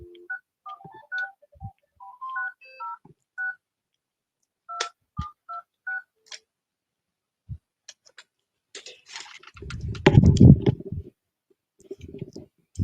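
A landline telephone being dialed gives a run of short, clear DTMF tone beeps in quick irregular bursts. Some clicks follow, then a louder rumbling handset noise near the end.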